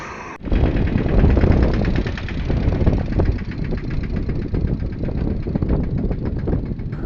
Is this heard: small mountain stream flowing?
no